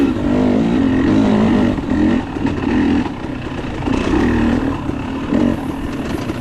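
A 2022 KTM 300 XC-W two-stroke dirt bike racing a hare scramble at Lake Sugar Tree, its engine loud and close, buzzing steadily with repeated revs and brief throttle dips throughout.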